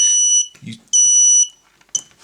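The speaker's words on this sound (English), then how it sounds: "Just turn your transmitter off and this thing will beep as soon as it loses signal." Shrill electronic lost-signal beeper on a Happymodel Mantis 85 Mini drone sounding in three bursts, two long and one short, loud and close, with brief mechanical noise between them.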